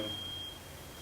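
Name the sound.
neighbour's fire alarm beeping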